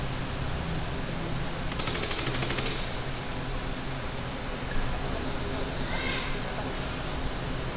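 Sniper gunfire in the Ghost Recon Wildlands video game, heard as a short burst of rapid shots within steady background noise, with another faint burst later while players talk.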